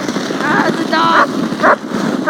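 A dog barks and yips in short bursts outdoors during a snowstorm, fairly close and loud, in a brief clip.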